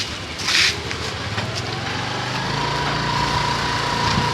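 A small engine runs steadily throughout, likely a motorbike or scooter being ridden, with a brief louder burst near the start and a continuous mid-level drone close by.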